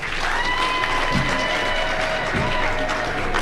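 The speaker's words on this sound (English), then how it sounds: "Can we please clap for her?" An audience at an International Women's Day event claps for a woman being honoured, a sustained, even patter of many hands under faint tonal sounds, with a couple of low thumps.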